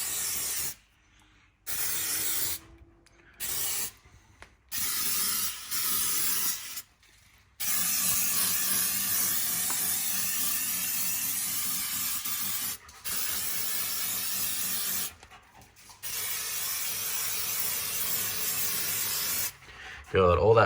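An aerosol can of plastic dip hisses in long, loud sprays close by on car parts, broken by short silent pauses between bursts.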